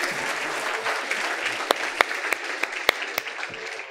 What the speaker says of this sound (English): Big hand of applause to Pedro.